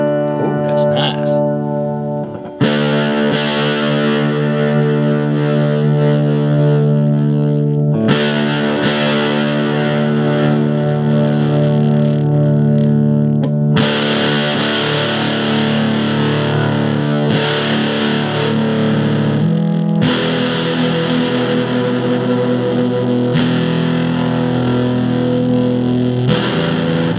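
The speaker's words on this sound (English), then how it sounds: "Some really sweet distortion." Heavily distorted, overdriven electric sound from a Realistic unit with the microphone level boosted plays continuously for the whole stretch, thick and buzzing, with brief pauses and shifts between sustained chords.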